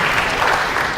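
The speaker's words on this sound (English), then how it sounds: "Can you guys give a round of applause, please?" Orientation-event audience breaks into applause, a brief, loud burst of clapping lasting about a second.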